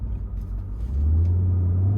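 A 2016 Maserati GranTurismo Convertible Sport's engine gives a steady low rumble from the cabin while driving, swelling louder and deeper after the first second and holding as a sustained drone with no talk.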